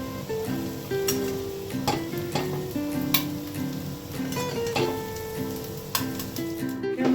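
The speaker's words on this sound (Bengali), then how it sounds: "আর আমাদের এটার মধ্যে ভাত ভেজে নেব" Cooked rice frying in a hot pan already used for frying potatoes: a continuous crackling sizzle, close and fairly loud, broken by the scrape and clink of stirring.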